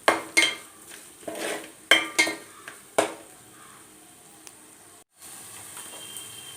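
Homemade chilli powder and turmeric fry in a pan while a metal spoon scrapes and clinks against it in several sharp strokes, then a soft steady sizzle carries on alone.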